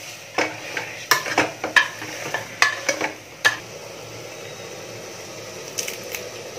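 Mutton dalcha with mutton masala is stirred in a pot, a spoon scraping and clattering against the metal in a run of close strokes, then a faint sizzle and two light taps.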